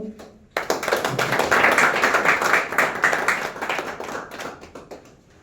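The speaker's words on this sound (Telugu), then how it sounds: "పేర్లు చదివిన తర్వాత ఒక్కొక్క పేరుకి మీరు చప్పట్లు కొట్టి" An audience at a working journalists' association meeting breaks into sustained applause, a dense patter of many hands clapping together, swelling quickly and then gradually fading.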